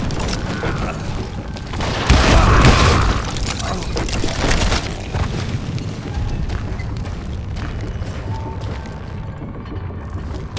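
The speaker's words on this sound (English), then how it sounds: "All it takes is one tiny spark, and boom." A mine explodes in the Western shooter Call of Juarez Gunslinger, one loud broadband boom around two seconds in, followed by a long rumbling, clattering tail of falling debris and mechanical noise that fades slowly.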